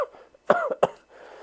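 A person coughing through a protective face mask gives two short, muffled coughs close by, separated by a brief pause and followed by a soft exhale.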